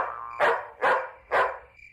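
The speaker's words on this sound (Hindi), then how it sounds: "ओह, यहाँ तो चाचा का कुत्ता शेरू पहरा दे रहा है।" A cartoon guard dog lets out three sharp barks in a steady rhythm behind a house, each one loud and close with brief gaps between them.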